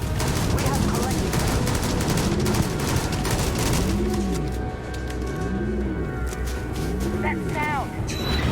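Rapid bursts of gunfire from the sci-fi video game Starfield crackle densely and loudly, mixed with warbling electronic tones and busy game noise throughout.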